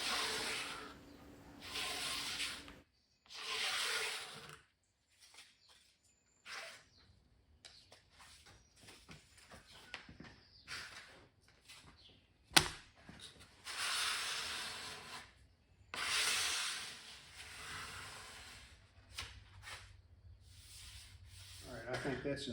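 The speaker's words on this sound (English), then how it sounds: "I'm scraping as I go to push the veneer down into the glue" Intermittent scraping on veneer being pressed into glue on a 1950 RCA 12-inch TV cabinet, bursts of close, hissy rubbing strokes separated by quiet pauses.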